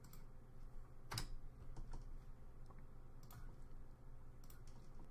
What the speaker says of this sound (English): You can see the keys I'm pressing down here.